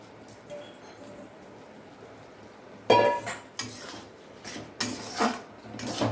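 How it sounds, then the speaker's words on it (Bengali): Washed Gobindobhog rice tipped into a pot of spices for muri ghonto, a quiet lull followed by several loud rushing pours and grainy clatter against the pot, close, with metal scraping between bursts. "সেই চালটা আমি এবার দিয়ে দেবো"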